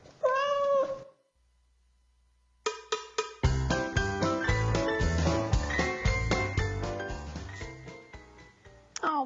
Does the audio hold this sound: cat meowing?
yes